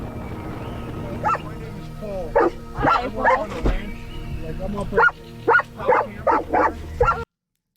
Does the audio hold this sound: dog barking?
yes